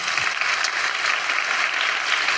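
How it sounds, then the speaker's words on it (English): Steady, sustained applause from a live podcast audience fills the whole stretch, a dense even wash of clapping with no talk over it. "This is the credibility I have now from applause."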